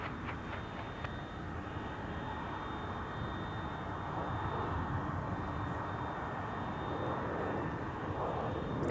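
A Delta Airbus A330-300 jet at Minneapolis–St. Paul airport, a broad steady engine roar with a faint high whine, holding level and swelling slightly toward the end.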